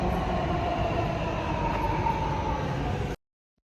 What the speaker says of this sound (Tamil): இப்போ நம்ம வந்திருக்கிறது தான் மெல்பர்ன் டவுன் ஹால் ஸ்டேஷன்.